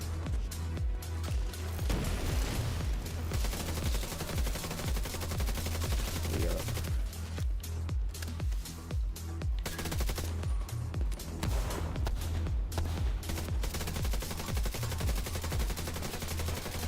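Gunfire and explosions in The Division 2 as sustained automatic bursts with heavy low booms, continuous and loud for the whole stretch and mixed with game sound.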